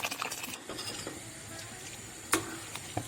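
A utensil stirs asparagus soup in a pot after hot water is added, giving soft scraping and sloshing with a few sharp clinks against the pot, fairly quiet and without talk.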